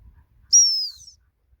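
A dog handler blows one long, clear whistle blast to stop a working Springer Spaniel, a single high, sustained tone about half a second long that slides slightly downward, with near silence around it.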